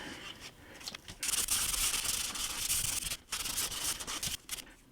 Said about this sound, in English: Now I am going to flip this over and sand the back of it.